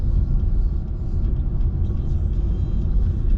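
A car driving along Morano Street through the Ruchill and Firhill area of Glasgow: a steady, loud engine rumble and road noise from inside the vehicle, continuous with no break.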